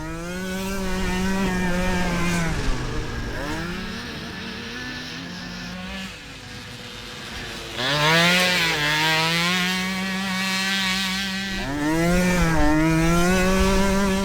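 Quad ATV engines race on a motocross-style track, a Yamaha Banshee among them. Loud, revving two-stroke whines climb and drop through gear changes as the machines pass, continuous and fairly close.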